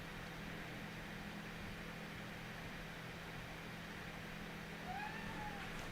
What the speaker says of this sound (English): I gotta get my cat. She's outside. She wants to come in.